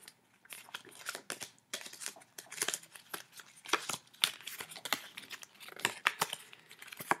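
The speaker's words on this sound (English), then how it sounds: "I'm shuffling the cards" Pokémon trading cards are shuffled by hand, a faint, close run of quick papery flicks and riffles in irregular bursts.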